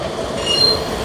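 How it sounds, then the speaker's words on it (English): A Nottingham tram rolls past in the city centre, its wheels giving a steady rail rumble with a thin high squeal rising briefly partway through, close and continuous for about a second. "obviously the tram's going"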